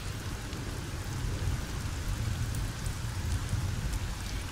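Steady rain pours down in an even, dense wash that continues without a break and without voices, sounding close and moderately loud.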